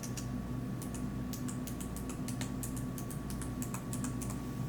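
Steady, rapid clicking of Acer Predator Triton 700 laptop keys being typed on, close up, with slightly uneven key strikes over a quiet hum.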